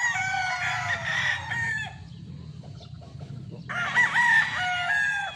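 A Boston Millionaire gamefowl rooster crows twice, loud and close, each long cock-a-doodle-doo separated by a short pause over low farmyard background noise.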